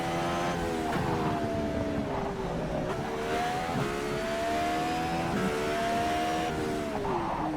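An Indycar race car engine screams at high revs around Laguna Seca in a racing video game, pitch rising and dipping with shifts and throttle changes, loud and continuous with other cars close by.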